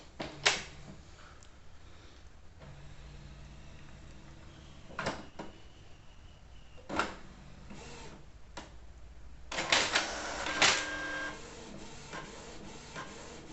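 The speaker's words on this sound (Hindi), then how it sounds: "तो अब कलर प्रिंट एक देते हैं और देखते हैं कलर प्रिंट अच्छे से हो रहा है या नहीं" A Canon inkjet printer fitted with a CISS ink kit runs a colour print, with mechanical whirring, clicks and clunks of the carriage and paper feed, close and steady, rising to a busier burst near the end.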